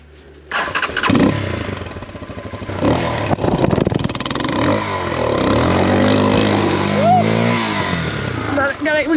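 A dirt bike engine starts and runs with rising revs and a steady idle close by, while people talk over it throughout.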